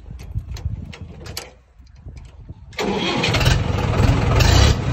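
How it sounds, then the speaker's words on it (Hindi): A Mahindra 575 tractor fitted with a Swaraj 855 silencer cranks over and starts, its diesel engine catching and settling into a loud, rough, throbbing idle close by. "स्वराज वाली आवाज आ रही है भाई महिंद्रा में"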